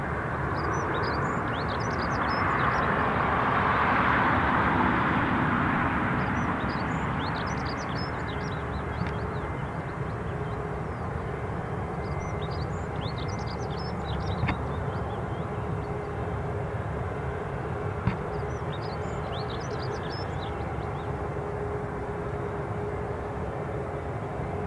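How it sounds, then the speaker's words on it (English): A British Airways Airbus A321 jet taxiing past at Newcastle International Airport, a steady broad engine roar and whine that swells slightly and then holds for the whole stretch, with faint clicks in the outdoor background. "British Airways, it is an A321. Just taxiing past me."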